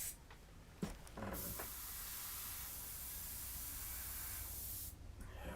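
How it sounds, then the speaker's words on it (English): An airbrush sprays paint in a continuous, fairly quiet hiss lasting several seconds, preceded by a couple of brief clicks and short bursts before the steady spray settles in. "Just been having a really good time with this paint, with this airbrush, really working really well"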